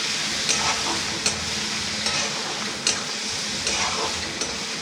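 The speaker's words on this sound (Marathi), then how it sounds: "तर पुन्हा हलवायचं ह्याला" Spices and chili being stirred in a frying pan, a steady soft sizzle punctuated by periodic scraping strokes of a spoon roughly every second, close and without speech.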